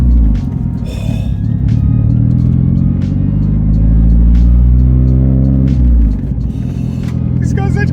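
A Nissan Pulsar GTiR with a newly built engine drives past loud and close, its rumbling engine note rising and falling through the revs, with a few light clicks over it and no talk.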